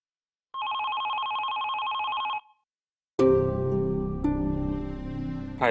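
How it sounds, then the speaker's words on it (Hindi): Telephone ringing in an indoor scene, a bright electronic ring that lasts about two seconds and then stops, followed after a short pause by loud music. "हाया फोन क्यों नहीं उठा रही?"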